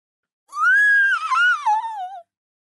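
A girl gives a single long, high scream that rises, wavers and falls off over about two seconds as the wolf jumps out of bed in a storybook scene. The scream rings out loud and alone against silence.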